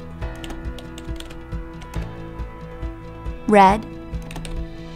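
Computer keyboard typing sets up a steady run of light key clicks throughout, under a voice speaking calmly, with a brief louder vocal burst near the end.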